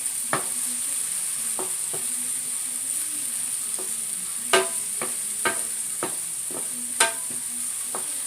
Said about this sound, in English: This smells so good with this garlic cooking in here.